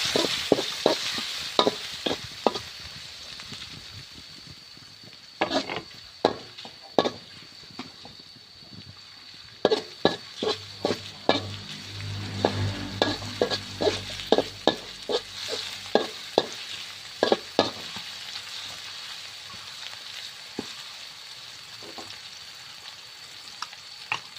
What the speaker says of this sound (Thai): เอาพริกกระเทียมลงค่ะไปพัดเลยนะเจ้า